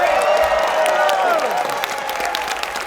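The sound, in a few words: banquet audience cheering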